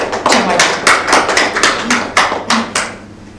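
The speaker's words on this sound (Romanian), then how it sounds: "Dacă vreți, puteți și și aplaudați," A handful of people at a poetry reading in Cluj clap, a sparse, fairly close patter of separate claps that thins out and stops after about three seconds.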